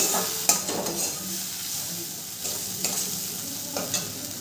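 A turmeric spice masala for a Bengali jackfruit curry sizzles softly in a pan while a spoon stirs it, with a few sharp scraping clicks against the pan over a steady low frying hiss.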